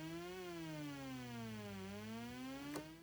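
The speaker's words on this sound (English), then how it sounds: "Technically, this would be a great dub siren" A synthesizer patch with FM and LFO modulation plays a sustained, harmonic-rich tone that bends slowly down then up like a dub siren, loud and steady throughout.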